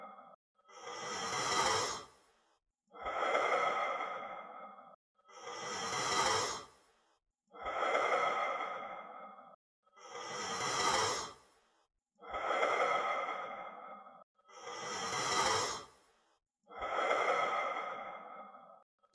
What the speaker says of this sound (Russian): глубокий вдох